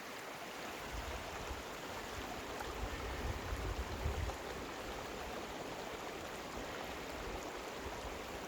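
A small creek near Big Bear Lake, California flows continuously, a soft, even rushing and bubbling of water heard alone, steady and fairly close.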